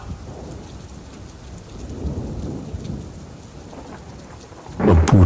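Steady heavy rain pours in an animated Hindi horror story set at a haunted train station, a dense hiss with low thunder rumbling beneath and a sharper, louder burst near the end.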